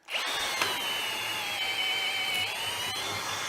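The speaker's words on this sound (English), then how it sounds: "this is a 25 mil or 1 inch auger, not particularly sharp" Power drill boring with a dull 25 mm (1 inch) auger bit, a steady, close, high-pitched motor whine with grinding that holds continuously throughout.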